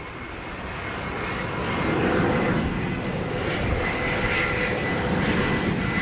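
A plane on final approach to runway 07 in Jamaica drones steadily and loudly, its engine roar swelling over the first two seconds and then holding at a constant level with no voices.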